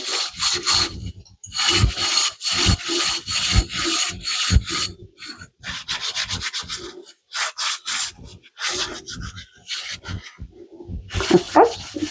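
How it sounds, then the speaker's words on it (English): Small old bottles are scrubbed inside with a Scotch-Brite pad hooked on a wire, making a close, steady run of rhythmic rough rubbing and scratching strokes with brief pauses between bursts. "I was using to hook on the Scotch-Brite pad and get it down in the smaller bottles where the bigger brush won't go"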